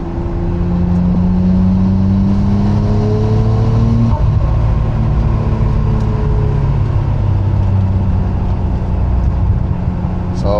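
Nissan GT-R with an upgraded turbo-back exhaust, idling with a steady low drone and a revving rise, loud and close, with faint crackles and pops under the engine noise.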